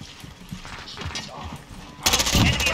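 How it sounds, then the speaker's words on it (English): A weapon magazine is swapped in Call of Duty: Modern Warfare, with quiet metallic clicks and rattles followed by a sudden loud burst of gunfire and mechanical clatter near the end. "Changing mags!"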